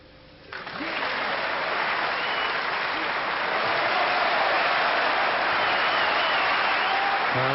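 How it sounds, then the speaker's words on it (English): Snooker match audience breaks into loud, sustained applause, starting abruptly after a brief quiet moment and swelling into a dense, even wash of clapping that continues to the end. "tremendous applause from the audience"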